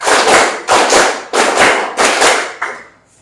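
Classroom students clap in counted bursts, each a rapid cluster of sharp hand claps, repeated about five times with brief gaps, loud and close with no talking over it.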